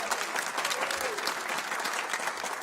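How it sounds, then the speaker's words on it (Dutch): An audience at a municipal party-leaders' debate in Tytsjerksteradiel claps for a woman in the hall, a brief, fairly quiet burst of many hands clapping together. "Applaus voor Rianne"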